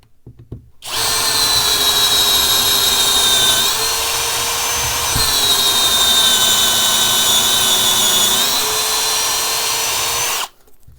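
A Parkside Performance 12V drill driver with a 2Ah battery drills at its lowest speed setting, a loud, steady motor whine that starts abruptly, shifts pitch slightly twice under load and stops cleanly after about ten seconds.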